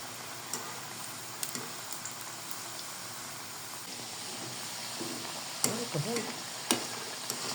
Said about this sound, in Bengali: পুলি পিঠে বানা হয়ে গেছে এখন তেলে ভাজছি